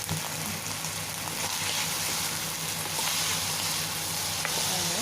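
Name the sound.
frying beef and spring onion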